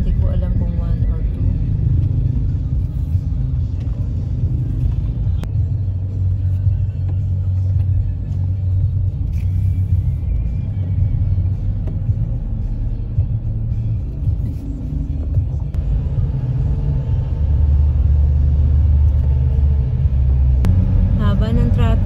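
A car rolls through heavy road traffic on the EastWest road toward Trece Martires, with a steady low engine and road rumble filling the whole stretch, loud and continuous, occasional faint clicks on top.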